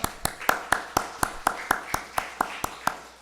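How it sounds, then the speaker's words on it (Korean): Church congregation at a Sunday worship service clapping in a slow, even rhythm, about a dozen sharp claps in a row, fairly loud and with no talk over them. "여러분 다 같이 하나님께 영광 박수 돌립니다."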